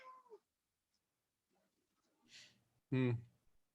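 A pet cat gives a short, loud meow up close, preceded by faint softer mews, with a brief bit of human voice at the start of an otherwise quiet stretch.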